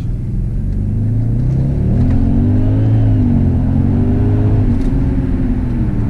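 An Audi RS6 C5 engine pulls hard in sport mode, a loud, deep rumble from inside the car whose pitch climbs and dips through the revs, continuous and with no talking.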